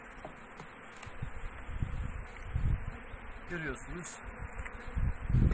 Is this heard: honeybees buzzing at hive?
yes